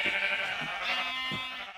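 Sheep in the Minecraft video game bleating, a few drawn-out wavering baas in quick succession, clear and close with no talk over them.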